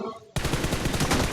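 Loud, rapid automatic gunfire bursts out suddenly in a mobile battle royale shooter game, PUBG Mobile, continuing as a dense, sustained rattle of shots up close.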